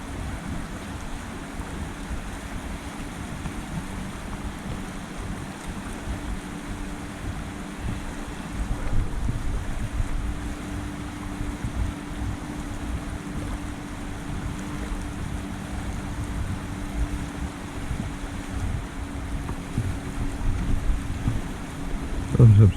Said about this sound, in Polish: Jakaś łódź płynie.